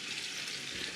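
Beef stock pours into a hot pan for beef osso buco, a loud, steady hissing sizzle that fills the moment closely, with no talking.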